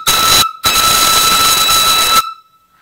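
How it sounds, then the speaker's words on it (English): A brass steam whistle on a live steam boiler blows two loud, shrill, steady blasts, a short one then a longer one after a brief gap, ending abruptly with a fading hiss. "Really nice little whistle here."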